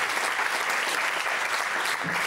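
An audience applauds Gladys Cohen during a French comedy radio show, a dense, steady burst of clapping that fills the short moment without a break.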